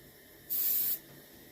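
A short burst of base coat sealer sprayed from a can onto a carved gadwall duck body being prepared for mounting, a steady close hiss lasting about half a second against a quiet room.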